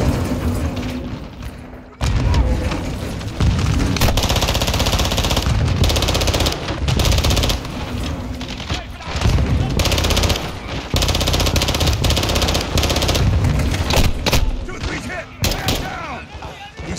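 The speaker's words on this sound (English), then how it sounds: "Incoming! Take cover! They're launching grenades!" Call of Duty MW2 campaign firefight with rapid automatic gunfire and thudding grenade launcher blasts, loud and almost continuous, dropping out briefly in a few short gaps, with shouted voices mixed in among the shooting.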